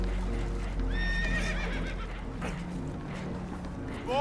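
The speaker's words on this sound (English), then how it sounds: "Horses are spooked" Spooked horses whinnying and neighing in the video game Red Dead Redemption 2, a couple of sharp rising neighs over low rumbling background and hoof clatter, fairly close.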